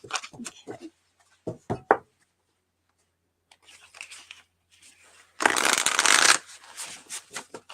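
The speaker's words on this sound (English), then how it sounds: "Okay, one more shuffle." A quick flurry of cards being shuffled, a dense papery riffle lasting about a second, preceded by scattered soft taps and handling sounds.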